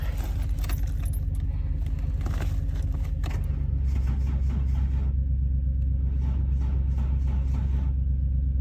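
A Ford Falcon farm car engine turns over on the starter without catching, a steady low rhythmic cranking drone behind jangling keys and some clatter, continuing to the end.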